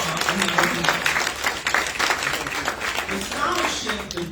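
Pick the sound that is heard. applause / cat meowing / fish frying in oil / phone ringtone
applause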